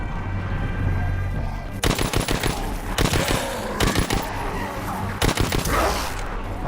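Automatic gunfire from a favourite multiplayer weapon in a zombies video game, several loud rapid bursts separated by short gaps over steady game background noise.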